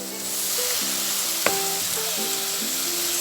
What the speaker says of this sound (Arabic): هسيب الطماطم تتشوح كمان مع الفراخ كده شويه